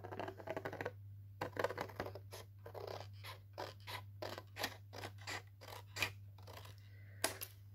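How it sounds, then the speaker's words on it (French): Scissors snip through paper along a fold line, cutting at a bevel to form glue tabs for a handmade envelope pocket; a steady run of close, crisp cuts sounds alone over a low background hum. "Alors, on va découper ça. On découpe en biseau. et le long de la ligne de pli."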